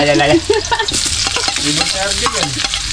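Loud sautéing sizzle in a pan with stirring scrapes, frying steadily up close while people talk over it.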